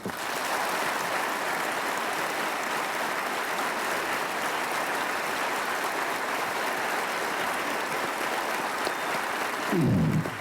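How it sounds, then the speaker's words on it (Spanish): Large audience applause at a Venezuelan defence ministry event at Fuerte Tiuna, a long, even roar of dense clapping that sounds almost like rain, ending with a brief low rustle. "Vamos a darle un aplauso grande."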